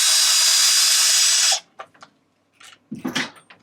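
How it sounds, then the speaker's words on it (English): An electric power tool whirs steadily for about a second and a half while backing out the center bolt from the underside of an RC car chassis, then stops, leaving faint handling clicks and soft rustling. "we're going to take out the bolt in the bottom"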